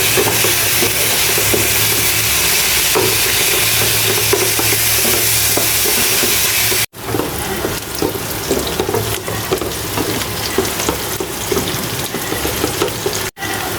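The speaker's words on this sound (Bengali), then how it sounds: "মাংস রান্না করার জন্য পেঁয়াজ মরিচ ভাজা নিতেছি" Onions and chilies frying in a pan for a meat dish, a loud, continuous sizzle with stirring scrapes close by, briefly cut once partway through, no voices.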